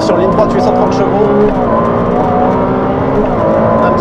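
A Ferrari 296 GTB with 830 hp pulls hard down a straight. Its engine drones loud and steady from inside the cabin, rising slowly in pitch under a voice.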